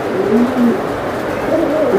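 A male racing pigeon coos close by, soft low throaty notes rising and falling over steady background hum.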